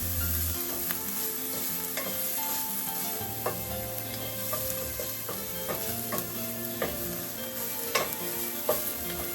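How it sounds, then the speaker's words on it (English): Onions sweating gently in a pan for a plant-based meatloaf: a steady, soft sizzle runs throughout, dotted with light clicks and scrapes of stirring, and no voices are heard. "The key is to make sure that the onions sweat and become translucent, but not to brown them."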